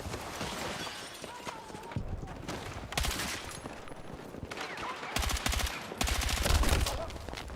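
Rapid gunfire bursts from M4 and M433 rifles in the Battlefield 6 video game, with dense automatic fusillades and sharp shots overlapping in close succession, loud and continuous with no talk over them.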